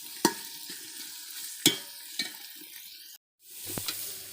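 Spices frying in a pan with browned onions, a steady soft sizzle punctuated by a few sharp spoon knocks, then a brief dropout before the frying resumes.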